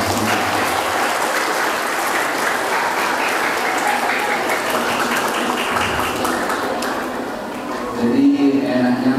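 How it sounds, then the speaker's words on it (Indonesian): Sustained audience applause closing a lecture, a dense steady patter of many hands that holds level throughout before a brief swell near the end. "Beri tepuk tangan dulu ya."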